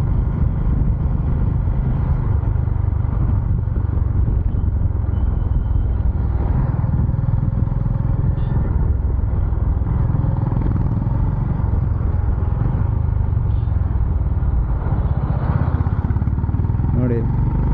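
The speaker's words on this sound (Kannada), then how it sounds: "ಈ ಹೊಂಡಾ ಇಂಜಿನ್ ರಿಫೈನ್ಮೆಂಟೇ ಒಂಥರ ಡಿಫ್ರೆಂಟ್ ಆಗಿದೆ" A Honda CB350 H'ness motorcycle engine runs steadily with a low, even rumble and a constant drone, likely while riding, with no clear breaks.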